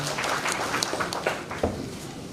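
Applause for a committee at an outdoor gathering: a scattered, moderately loud burst of hand clapping with irregular sharp claps, short and without talk.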